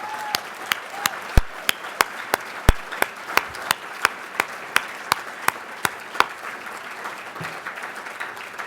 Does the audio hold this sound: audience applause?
yes